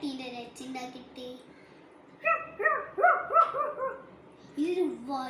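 Someone imitates a small puppy barking with their voice: a few soft whines, then a quick series of high, yappy little barks, and a final whimper, close and clear.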